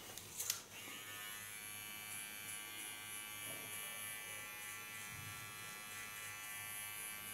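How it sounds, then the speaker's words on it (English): A small electric hair clipper buzzes steadily and close up, a continuous high whine running throughout while a short pixie cut is trimmed. "Go to my small clipper."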